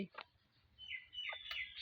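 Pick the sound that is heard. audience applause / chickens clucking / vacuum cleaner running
chickens clucking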